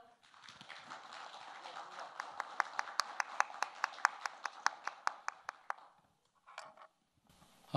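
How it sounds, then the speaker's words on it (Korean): A forum audience gives welcoming applause for a guest speaker: scattered clapping that settles into a steady run of sharp, distinct claps, then fades and stops, with a brief voice near the end. "여러분 따뜻한 박수로 환영해 주십시오."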